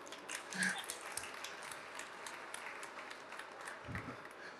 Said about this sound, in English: So, round of applause for me.